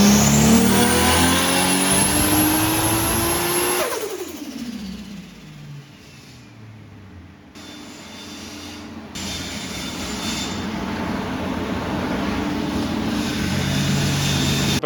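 A car with a swapped Toyota 2J engine revs up hard to a high whine, drops off sharply, then idles and builds again, loud and close with no talk.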